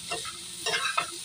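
Fish curry stirred in a frying pan, a few short scraping strokes of a utensil over a soft, steady sizzle of oil, close and moderately loud.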